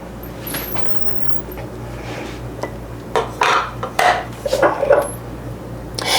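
A knife scrapes butter across toasted keto buttermilk bread, with a few close, sharp rasping strokes and clinks against a plate toward the end over a steady background hum.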